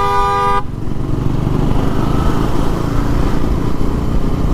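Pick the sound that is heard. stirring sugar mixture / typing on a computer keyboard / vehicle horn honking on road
vehicle horn honking on road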